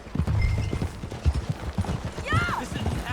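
Horse hooves clip-clop at a steady riding pace in Red Dead Redemption 2, close and rhythmic under a brief voice and a short whistling or creaking sound near the end.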